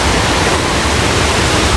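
Loud, constant roar of a waterfall near Joffre Lake in Canada, a broad rushing wash of falling water close by and unbroken, with no voices.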